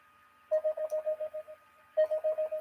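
Phone notification tones sounding in two bursts of rapid evenly spaced beeps, each run of about eight short pulses, clear and close with no talking over them.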